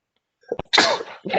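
A single person's sneeze during a committee meeting, a short intake of breath followed by a sharp explosive burst, close and clear, with a small trailing sound after it.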